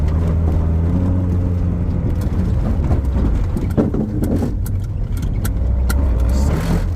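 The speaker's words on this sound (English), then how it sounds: "Still burnouts. Second gear till it gets traction." A Honda Civic doing burnouts in second gear while it finds traction, its engine roaring loud and steady for the whole stretch with a rough rumble close by.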